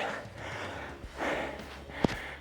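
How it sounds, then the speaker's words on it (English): Heavy, effortful breaths during a cardio and core workout: a few loud exhales and gasps, close to the mic, with one sharp snort-like intake near the end. "You can hear me breathing."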